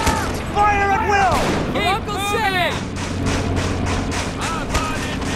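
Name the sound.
gunfire in video game Men of War Assault Squad 2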